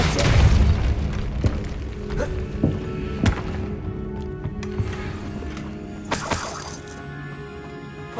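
A Depulso spell cast in Hogwarts Legacy lands as a sharp magical boom among several thuds and crashes, with a heavy low rumble underneath and brief shattering bursts.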